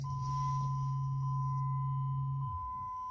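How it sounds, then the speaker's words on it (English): Car fuel pump humming as the ignition key is turned, a steady low electric drone that holds for about two and a half seconds and then winds down, with a faint high tone alongside. "so that sounds like the pump is pumping"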